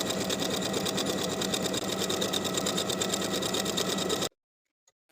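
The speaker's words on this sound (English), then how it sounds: "we're going to sew basting stitches all the way around within the seam allowance" A sewing machine runs steadily at close range, sewing basting stitches along a skirt edge within the seam allowance, a fast even rattle that stops abruptly into near silence.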